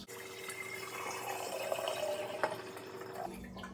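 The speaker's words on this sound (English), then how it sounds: "we're going to first add the water to our" Cold water streams steadily from a tap into a container while making kombucha, a continuous close rushing pour with a faint rising tone as the vessel fills, then a brief change near the end.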